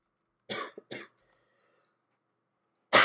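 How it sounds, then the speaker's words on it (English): A person coughs two sharp, close bursts in quick succession, followed by a short silence and then another loud cough at the end; no speech, just a tired traveler clearing a rough throat. "Oh, sorry about the coughing, everybody."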